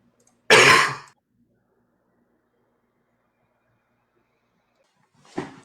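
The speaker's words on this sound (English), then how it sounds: "I didn't want to cough during this call, but can't suppress it any longer" A single sharp cough near the start, then near silence, followed by a shorter throat-clearing cough at the end.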